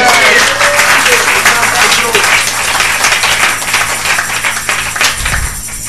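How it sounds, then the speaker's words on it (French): A church congregation claps for the Lord, dense, loud applause filling the room for several seconds before thinning out, with a sustained tone underneath. "Est-ce qu'on peut applaudir pour le Seigneur?"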